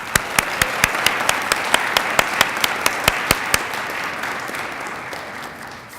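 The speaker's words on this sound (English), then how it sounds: "Please give a warm applause to each of these extraordinary individuals." Audience applause for panelists at a National Cancer Prevention Day event, steady clapping from a modest crowd with a few sharp close claps standing out, gradually fading away.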